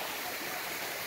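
Small waterfall spilling into a stream, a steady broadband rush of flowing water that stays constant and close throughout the short moment.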